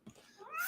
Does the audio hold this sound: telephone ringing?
no